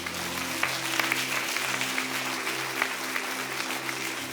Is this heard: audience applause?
yes